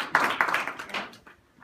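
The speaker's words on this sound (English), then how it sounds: "So can you just start with our round of applause to yourselves?" An audience at a hackathon claps for themselves: a short burst of loose, close hand claps with distinct individual slaps that quickly taper off, followed by a faint tap.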